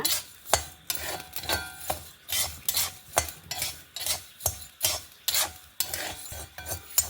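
Rhythmic scraping and stirring as urad, chana and moong dal dry-roast in a pan until reddish, strokes about once a second, with faint dry rattling between them.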